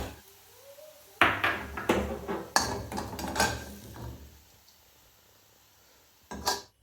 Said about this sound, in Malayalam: ഇത് നമുക്കിനി ഒരു ബൗളിലേക്ക് മാറ്റാം.